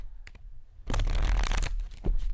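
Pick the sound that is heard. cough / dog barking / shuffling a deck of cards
shuffling a deck of cards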